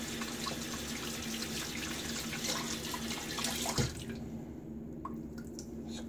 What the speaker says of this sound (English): Gently squeeze out the water.